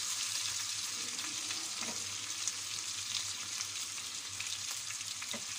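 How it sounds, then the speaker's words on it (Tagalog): Steady, loud sizzling and crackling of chicken frying in hot oil in a pan, continuous throughout with small pops and no voices. "Prito ko lang siya ng bahagya guys."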